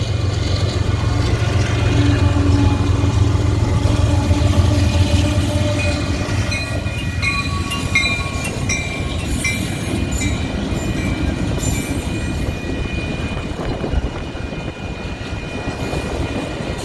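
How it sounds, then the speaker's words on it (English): A Union Pacific train with mid-train DPUs, ES44AC-H and AC4400CW units, meets westbound light locomotives in Rochelle, Illinois. Engines rumble loud and close, and wheels and cars clatter steadily past with occasional squeals, no voices. "The real treat on this train were the mid-train DPUs meeting some westbound light locomotives."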